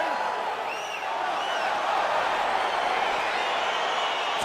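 Crowd noise swells in an EA Sports UFC 4 video game arena as a fight gets underway, a steady roar of cheering with faint whistles rising above it.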